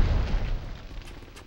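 A loud, deep explosion booms close by in the shooter game Red Faction, a single heavy burst that rumbles and fades over a second or so.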